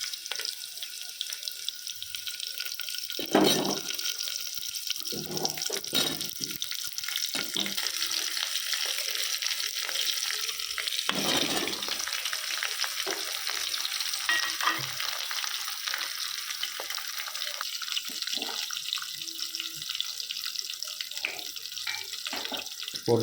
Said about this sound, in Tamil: நம்ம நறுக்கி வச்சிருக்கிற முருங்கைக்காயை இதோட சேர்த்திக்கலாம்.